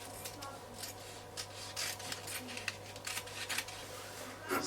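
Scissors cut fabric for a pleated shirt gown, with soft rubbing snips repeating irregularly, close but quiet, and no talk.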